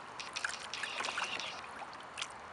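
Water trickles and patters onto grass in a light, uneven stream, with small splashes and drips close by.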